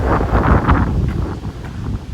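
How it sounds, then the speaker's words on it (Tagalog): Strong, gusty wind at a campsite roars steadily across the microphone, buffeting loudly throughout with no voices. "sobrang lakas ng hangin. Napakalakas."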